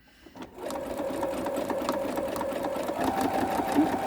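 A sewing machine stitches binding onto a quilt, starting after a brief pause and then running in a steady, close, continuous whir of rapid needle strokes for several seconds.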